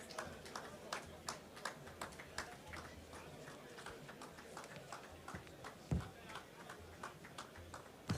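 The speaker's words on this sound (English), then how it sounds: "A round of applause for Professor Osumbo" Scattered audience clapping at the ADC national convention comes as sharp, fairly regular claps from a few hands, moderately distant, running under continuous talk from the stage.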